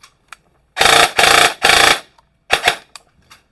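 An airsoft gun fires in short bursts indoors at a tactical shop: three sharp, loud rapid bursts back to back, a pause, then two quicker shots, with faint clicks between and no talking.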